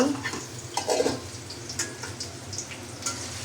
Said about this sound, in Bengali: এখন আমি পেঁয়াজ রসুন কুচিগুলা তেলের মধ্যে একটু ভেজে নিয়ে দেব।